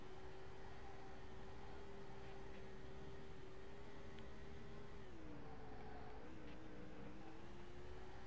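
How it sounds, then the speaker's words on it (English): A steady race car engine drone in the video game NASCAR 08 holds one pitch, then dips and wavers near the end, heard from inside, with hiss behind it and no voices. "So far, the engine sounds okay."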